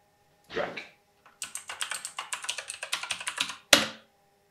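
Password typed on a computer keyboard while setting up a Dell R210 II home server, sounding as a quick, steady run of about a dozen crisp, close key clicks, followed by a single sharper tap.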